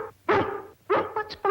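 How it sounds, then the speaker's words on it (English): A dog barks in a house kitchen, three sharp bursts with short pauses between, close and fairly loud, with a brief yipping edge. "What's bothering that dog?"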